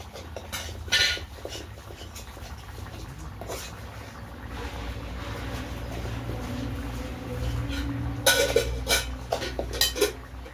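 A metal cooking pot (dekchi) being handled in a home kitchen while cooking moong dal with beans and fried cabbage: scattered clanks and scrapes of metal against metal, a burst of knocks near the end, over low room hum.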